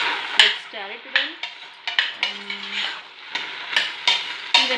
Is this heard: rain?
no